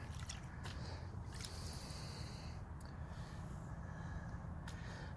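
Gold prospecting material being washed by hand in a pool of water in Montana, a continuous close sloshing and swirling of water with soft squishy splashes throughout.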